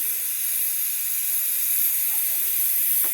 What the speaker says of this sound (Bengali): গরম গরম মশলাটা ভাজছি